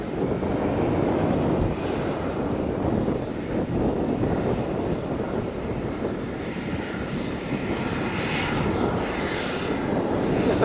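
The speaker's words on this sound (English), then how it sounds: "The Transavia lining up to Paris" A Transavia airliner lines up on the runway at Faro Airport, its jet engines giving a steady, loud, broadband roar that holds throughout, with some wind noise on the microphone.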